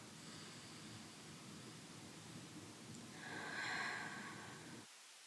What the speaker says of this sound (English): I'm just going to take a breath